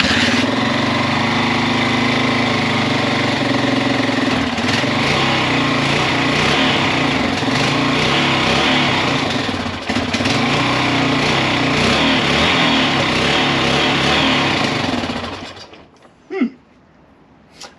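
A Yamaha XT350 motorcycle engine idles after a kick start, with a steady, loud, buzzing single-cylinder drone that holds for about fifteen seconds before cutting off abruptly.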